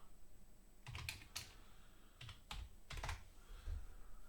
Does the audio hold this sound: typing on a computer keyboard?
yes